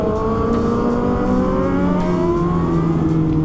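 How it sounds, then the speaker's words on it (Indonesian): Roaring engines of a Kawasaki H2R and a Ducati V4S on a night ride, loud and close, with rising and falling revs that sweep up in pitch as the bikes accelerate, continuous throughout. "Kita denger raungan yang motor-motor gila ini."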